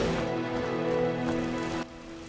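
Steady rain falls in The Witcher, a dense hiss layered over sustained tonal hum, staying loud before dropping off sharply toward the end.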